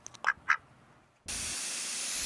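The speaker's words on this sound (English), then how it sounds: "Anything to let Dylan ducks stay with his flock" A pet duck gives two short, close quacks in a quiet setting, then a loud steady hiss of spray or rushing noise takes over.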